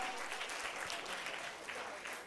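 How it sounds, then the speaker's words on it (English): Audience applauding parents at a literacy coalition symposium in Newark, a steady, dense wash of clapping that holds evenly from start to finish. "Come on, clap it up, clap it up."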